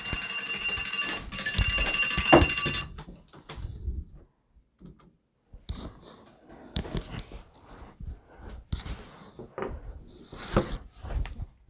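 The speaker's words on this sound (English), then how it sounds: "that was just an alarm going off on my computer" A computer alarm sounds first, a bright, buzzy repeating tone for a few seconds that then stops, followed by scattered soft clicks and rustles.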